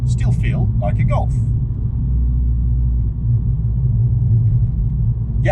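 A heavily modified Mk5 Volkswagen Golf GTI with a loud engine holds a steady, deep rumble while driving, and a voice briefly talks over it at the start.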